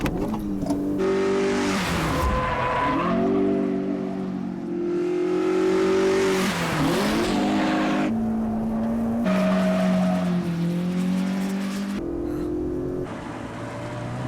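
Cars racing from Initial D movie 3 (English dub), engines revving and rising in pitch through repeated gear changes, with tire squeals as they skid, loud and close throughout with no talk.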